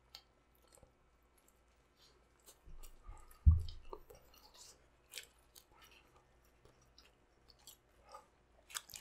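Crunchy bites and wet chewing on insanely spicy chicken wings at a mukbang, a few close, soft crunches with one louder bite near the middle, otherwise quiet with faint clicks.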